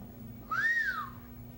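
One clear whistled note rises and then falls, lasting about half a second, alone over a low steady background hum.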